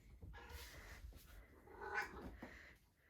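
A pet cat at home during a nighttime routine gives a few faint, drawn-out meows, soft and somewhat distant, with no talking.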